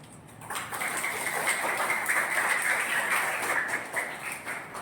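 Audience applause at a Ramzan celebration event on stage, a steady wash of clapping that swells and holds for several seconds, fairly loud and diffuse.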